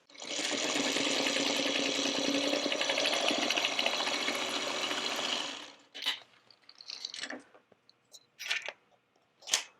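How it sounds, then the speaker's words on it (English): A sewing machine stitches a quarter-inch quilt seam steadily for several seconds with a fast mechanical whir, then stops, followed by scattered handling clicks and rustles. "I'm going to take this to my sewing machine, and I'm going to stitch right along here"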